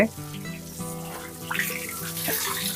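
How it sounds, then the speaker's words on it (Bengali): Water is poured and splashes over a cow's back during a bath on a small farm. The gushing is continuous and moderately loud under a harmonic background, with someone talking over it. "গোসল করাচ্ছেন কি সুন্দর করে এই যে পিঠে পানি দিচ্ছে মাঝখান দিয়ে নাভির ওই দিক দিয়ে"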